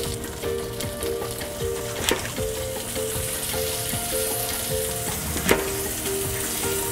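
Grilled cheese sandwiches fry in butter in a pan, giving a steady, close sizzle throughout with two sharp clinks and no talking.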